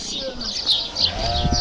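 Sheep and lambs bleating on a farm in Turkey, several close, overlapping calls in quick succession, with people talking nearby.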